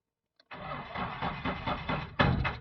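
A 2014 Mahindra Bolero SLX engine cranks on a starting attempt with a weak battery, giving a steady rhythmic churning for about two seconds with a louder surge near the end, close and without speech.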